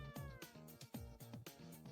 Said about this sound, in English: there is a cat that looks very...